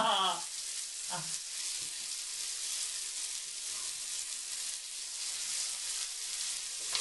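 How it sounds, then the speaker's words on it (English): Lamb and roast pepper kebabs fry in rendered lamb fat with a steady, close, bright sizzle that holds for the whole stretch, with a brief faint voice near the start. "move the veg over to the meaty side so they could fry a bit in the lamb fat"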